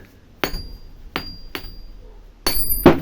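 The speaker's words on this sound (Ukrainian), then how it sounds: "І саме любиме ваше наковальня. Ми візьмемо десь молоточок." A small hammer strikes an anvil four times, bright ringing taps in an uneven rhythm, close and loud, the last blow followed by a brief extra clink.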